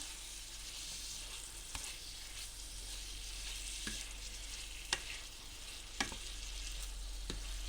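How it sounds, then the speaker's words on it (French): Chicken breast sautéing in a pan with noodles and vegetables gives off a steady, close sizzle. A few sharp clicks of a utensil stand out above it. "Je rajoute mon blanc de poulet. Je fais encore revenir un peu."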